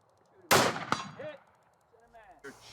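A rifle fired once outdoors at a target range, a sharp loud crack followed by a metallic clang and a short ringing decay, with faint voices nearby.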